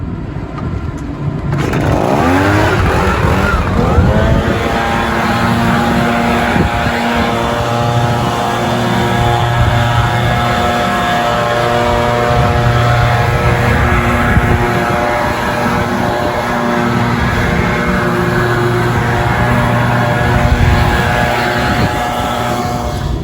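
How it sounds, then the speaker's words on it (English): A lightweight gas-powered leaf blower cleans a residential asphalt driveway, its engine roaring loud and steady close by for over twenty seconds after a quick start, with no voices. "residential driveways, we tend to just use lightweight gas-powered blowers"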